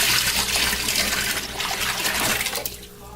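Water poured out of a plant pot into a sink, a continuous splashing, gurgling flow that is close and fairly loud before it thins and trails off near the end.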